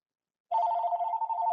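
A telephone ringback tone begins after half a second of silence, a steady, clear electronic ring heard alone and fairly close after a number is dialed.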